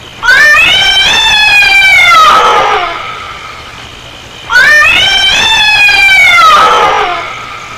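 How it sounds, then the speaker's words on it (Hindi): A cat in a 1988 Hindi horror film gives two long, loud, wailing meows, each rising and then sliding down in pitch, separated by a short pause. "उसी बिल्ली की आवाज है।"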